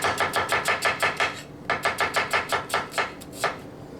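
A knife chops a regular white onion on a cutting board in quick, even strokes, close and crisp, in two rhythmic runs separated by a brief pause.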